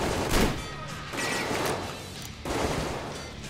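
Dense, continuous bursts of rapid gunfire from the video game Metro Exodus, loud and busy, with several sharp volleys layered over a noisy background.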